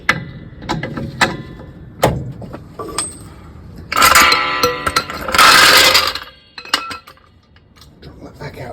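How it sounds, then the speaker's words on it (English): A trolley jack is lowered and pulled out from under a car in a workshop, giving sharp metallic clinks and clanks, then a louder rattling scrape of the jack rolling away, with a voice heard faintly between. "So we can go ahead and remove the trolley jack."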